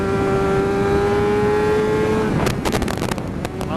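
A sport motorcycle engine on a race track holds a steady high tone, then wind and engine roar take over with several sharp bursts as the rider gets back on the throttle, close and loud.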